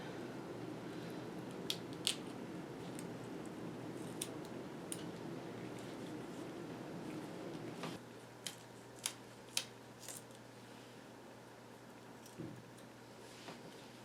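Scissors snip through a yellow perch during a dissection, giving a few sharp, close clicks and cuts scattered over a steady low background hum, with no talking.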